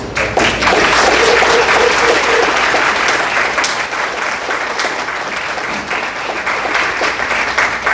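Seated audience at an evening event giving a round of applause, loud, dense clapping that swells quickly and then tapers slightly while staying continuous for about eight seconds.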